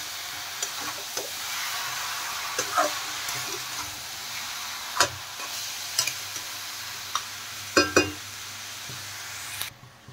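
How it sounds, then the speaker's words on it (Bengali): Cabbage and fried fish heads are stirred in a pan with spices, giving a quiet ongoing sizzle broken by repeated sharp scraping and clacking strokes of the spoon. "এখন নেড়ে চেড়ে ভালো করে রান্না করে নেব"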